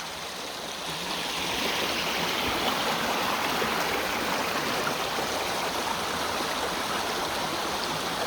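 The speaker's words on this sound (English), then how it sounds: "There's the creek to the old mill." A creek swollen by recent rain flows past the old mill at Berry College in Rome, Georgia, a steady broad rush of water that swells slightly after the first second and stays constant.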